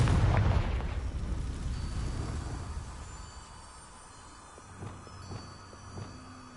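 Confringo spell blast in Hogwarts Legacy, a loud booming explosion that rolls off into a long fading rumble, followed by a few faint thuds and a low hum.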